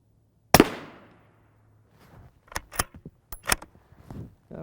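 Rifle shots, including .308 rounds, fired at a Hesco M210 SRT armor plate. A single sharp, loud crack rings out with a long decaying tail, followed by a cluster of quieter clanks, pops and rattles.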